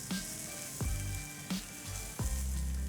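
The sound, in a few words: corn kernels and spring onion greens tossed in a hot pan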